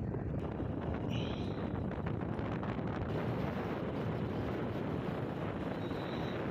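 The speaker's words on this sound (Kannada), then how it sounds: "ಬೈಕಲ್ಲಿ ಹೋಗ್ಬೋದು ಪರವಾಗಿಲ್ಲ, ಸ್ವಲ್ಪ ಗಾಳಿ ಜಾಸ್ತಿ." Strong wind at the Vani Vilas dam site near Hiriyur roars steadily across the microphone, a constant close buffeting rush that lasts the whole stretch with no talking.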